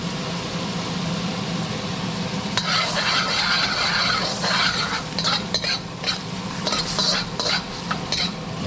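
Singapore noodles stir-fried in a wok on high heat, a loud constant sizzle overlaid with busy metallic scraping and tossing strokes from about the third second onward, with no talking.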